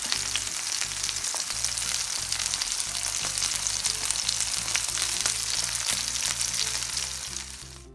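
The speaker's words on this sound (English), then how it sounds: "you need to just fry them just until the side is brown" Chicken sizzles and crackles steadily in hot oil, a dense continuous frying hiss with occasional pops, fairly quiet and without any talking.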